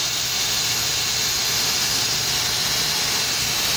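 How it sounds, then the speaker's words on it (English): A Slopehill ionic hair dryer blows air with the heat off, a steady, close, broadband whoosh of rushing air that holds evenly throughout with no voices. "I'm just going to turn this on here so you can see how loud it is."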